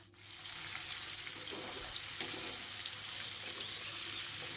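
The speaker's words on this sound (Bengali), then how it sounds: "সামান্য কিছুটা লবণ আর কিছুটা হলুদ গুঁড়ো দিয়ে নেব। আবারও এটাকে খুব ভালো করে মিক্স করে নেব আর একটু ভাজা ভাজা হওয়ার জন্য রেখে দেব।" Jackfruit and potato pieces fry in a pan with salt and turmeric, giving a steady, fairly quiet sizzle that holds evenly for a few seconds with no talk.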